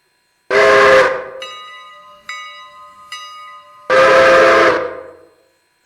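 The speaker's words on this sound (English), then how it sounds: "I think the whistle's a smidge much." Two loud, long blasts of a steam locomotive whistle in the train game Railroader, separated by a quieter stretch of ringing bell strikes, all close and without talk.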